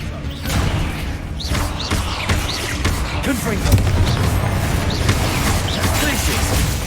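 A Confringo explosion spell goes off in Hogwarts Legacy, a loud blast of booms and thuds over busy in-game mechanical clatter lasting several seconds.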